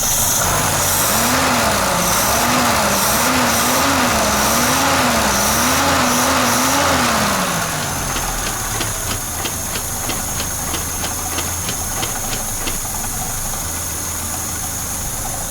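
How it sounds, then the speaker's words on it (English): The 2.0 engine of a Peugeot 505, converted from a single to a double barrel carburettor, runs loud and close, rising and falling in a wavering rev while its speed is adjusted, then settling into a steadier idle. "Increase the RPM a little."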